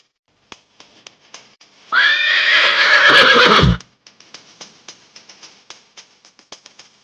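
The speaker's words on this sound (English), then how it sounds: "Horse." A horse gives one loud, close whinny lasting about two seconds, rising then falling, with light tapping and clip-clop sounds before and after it.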